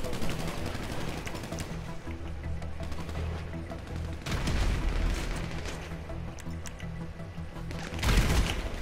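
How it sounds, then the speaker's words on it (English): Heavy gunfire in Grand Theft Auto V, with dense, sustained bursts of rapid shots and booming impacts rolling on continuously, loudest near the end, and no voices. "I'm under so much fire."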